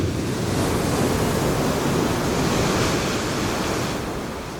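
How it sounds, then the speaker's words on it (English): Heavy ocean waves pounding a boat moored in port in the Azores during stormy weather, a continuous loud roaring wash of surf and wind with no let-up. "the waves are hitting us head on"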